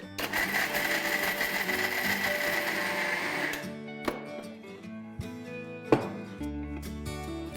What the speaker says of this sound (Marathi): हे हिरव्या मिरच्या मोठ्या 3 हिरव्या मिरच्या आहेत आणि लसणाच्या 8-10 पाकळ्या आहेत, हे मी वाटून घेते।